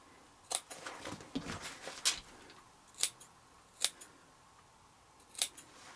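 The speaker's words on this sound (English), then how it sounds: "Go ahead and clip your curve so that it can fold correctly." Scissors clip the curved seam of a fabric Christmas stocking made from wedding dress material. A handful of quiet, crisp snips arrive at irregular intervals with no talking.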